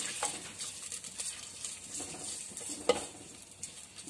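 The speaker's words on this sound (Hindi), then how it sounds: "घी गर्म हो चुका है। अब इसमें मैं प्याज शामिल करूंगी।" Onions fry in hot ghee with a soft, fairly faint sizzle, and occasional scrapes and taps come from a spoon stirring them in the pan.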